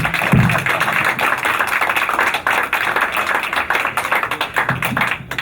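Audience clapping at an evening fundraiser show, steady dense applause filling the room throughout, fairly loud with no talking over it.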